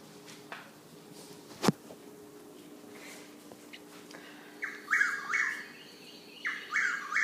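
Repeated chuck-will's-widow calls ring out, each a quick chirping phrase, twice in a row near the end after a sharp click and a quiet stretch.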